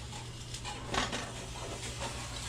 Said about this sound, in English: I'm gonna slide the spatula under the edge